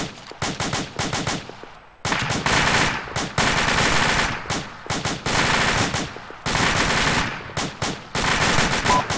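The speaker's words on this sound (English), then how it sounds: "Suppressive fire. Open fire on the bunker." Rapid bursts of automatic gunfire in a military video game, loud and close, hammering repeatedly in dense volleys with brief gaps between strings of shots.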